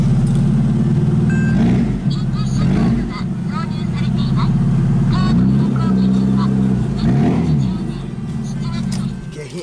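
A Rover Mini's exhaust rumbles deep and loud through an aftermarket loud muffler, rising and settling with several revs while people talk over it.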